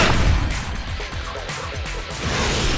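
Explosive barrels blowing up among zombies in the video game Yakuza Dead Souls: a dense, loud rumble of overlapping booms and crashes with no break, heavy in the low end.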